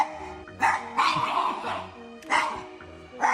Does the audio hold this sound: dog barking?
yes